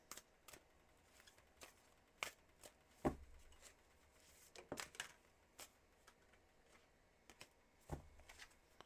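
Tarot cards are shuffled by hand, faint, quiet riffles and soft slaps arriving in irregular bursts with brief pauses between them.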